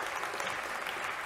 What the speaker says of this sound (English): Round of applause for this very